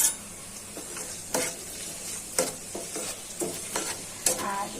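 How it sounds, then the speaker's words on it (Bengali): Sliced onions fry in hot mustard oil, giving a soft sizzle broken by several sharp scraping stirs of a spatula against the pan at uneven intervals, close and without talk. "আমি গরম তেলে পেঁয়াজগুলো ছেড়ে দিচ্ছি।"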